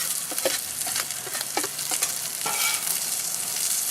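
Shrimp sizzle and crackle in a hot paella pan while a utensil scrapes and stirs with a few distinct knocks, a close, continuous frying hiss with no voices.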